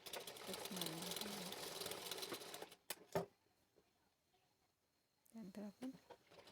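A sewing machine stitches tucks on a blouse in short, rapid whirring bursts, close and clear, with a pause in the middle and a voice talking over parts of it.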